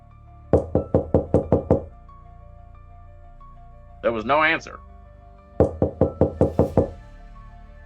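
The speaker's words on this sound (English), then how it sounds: "I knocked on apartment number 330." Knocking on an apartment door in a 1940s radio drama, two sharp bursts of about seven rapid raps each, separated by a short spoken line, with a quiet hallway hush between.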